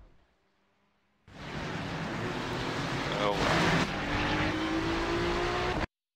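Ferrari GT3 race car engine in the iRacing sim, a loud, sustained high-revving drone that cuts in abruptly, holds steady with a brief upshift swell, then stops dead; a voice talks faintly underneath.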